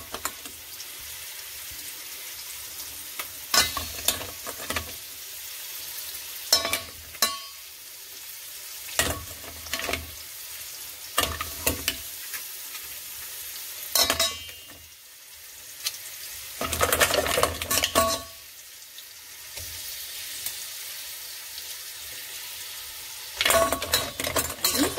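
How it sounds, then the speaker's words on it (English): Large mussels for tinolang tahong go into a hot pot over a low flame, giving a steady soft sizzle broken by repeated loud bursts of clattering and stirring, with no talk. "So I put this fire on low, giving me a chance to add all the mussels"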